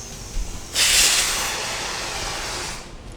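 A pressure cooker whistle lets out a loud, sustained burst of hissing steam close by, starting suddenly after a couple of soft knocks and holding steady for a couple of seconds before easing off.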